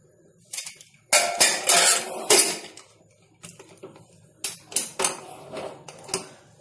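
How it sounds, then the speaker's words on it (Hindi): Metal clanks and clatters as a lid is fitted onto a pressure cooker and the cooker is set on a gas stove, several sharp close knocks in two bursts with quiet gaps. "ढक्कन लगाकर गैस पे चढ़ा देते हैं।"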